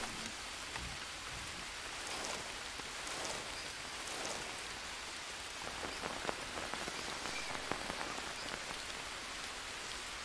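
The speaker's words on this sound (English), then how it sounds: "it finally started raining." Steady rain falls in the jungle survival game Green Hell VR, a dense even hiss of drops on surfaces with no talk.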